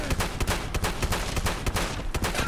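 Double-barrel shotgun blasts in Fallout 4 fire in rapid succession amid battle noise, with sharp booming reports repeating throughout and no break.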